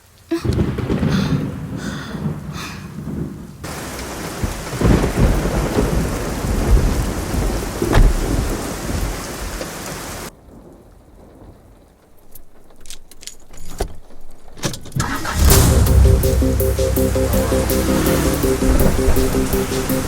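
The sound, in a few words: heavy rain with thunder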